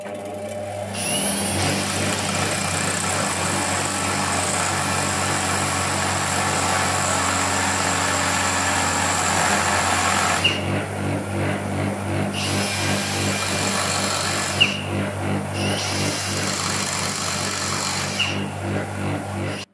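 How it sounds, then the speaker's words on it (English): A bench grinder works on metal parts for a DIY sim rig base, a loud continuous motor whine broken by several pauses and bursts of grinding toward the end. "Use the bench grinder"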